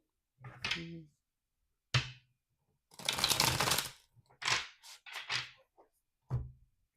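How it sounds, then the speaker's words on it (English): Tarot cards shuffled in several separate bursts of riffling and flicking, with quiet gaps between them. "One more shuffle."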